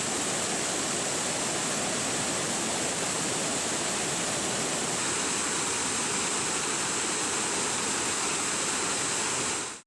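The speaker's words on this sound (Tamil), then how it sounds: "பெரியகுளம் அருகே உள்ள கும்பக்கரை அருவியில் வெள்ளப்பெருக்கு ஏற்பட்டுள்ளது" The flooded Kumbakkarai waterfall near Periyakulam, swollen after days of heavy rain, gives off a loud, unbroken roar of rushing water that fills the whole stretch with no voices.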